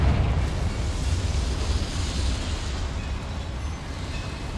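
A Confringo blast spell in the Hogwarts Legacy video game erupts with a loud rumbling boom that trails into a long, rough roar and slowly fades, with no voices.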